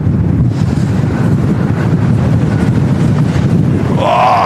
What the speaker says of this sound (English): The wind has picked up again.